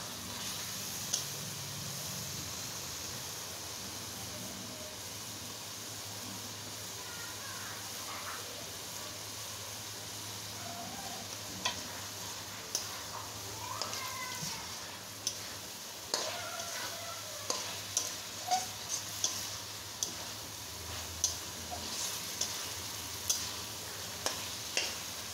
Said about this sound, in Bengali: আমি এখন 2 মিনিট যাবত আলুটা রান্না করে নেব